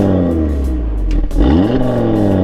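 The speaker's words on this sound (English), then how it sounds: "I'm going to rev the engine a little bit so you can hear some of that inline 5-cylinder music." A 2019 Audi TT RS Quattro's inline five-cylinder engine revving up close: a loud, rich idle rises into a quick rev, dips, then climbs again into a sustained higher-pitched growl, with no talking.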